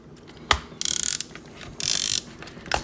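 The ratcheting bit of an Ocular Max PS-17 PROBUS is turned in two short bursts of rapid, crisp clicking, set between a few single sharp clicks, close up and with no talking.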